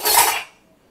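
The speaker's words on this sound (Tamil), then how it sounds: "ஒரு பவுல் எடுத்துக்கோ." A kitchen bowl picked up and set down, one brief bright clatter of dishware that rings briefly and fades quickly, close and fairly loud.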